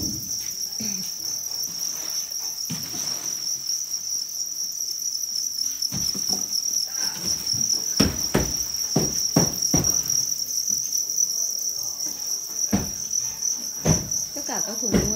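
Crickets chirp steadily in a covered cardboard or wooden rearing box, a loud continuous high trill with scattered clicks and taps over it, no voices.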